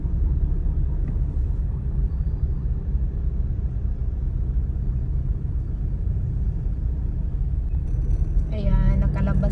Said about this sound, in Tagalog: Ayun, oh, nagka-traffic na.